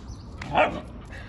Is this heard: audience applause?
no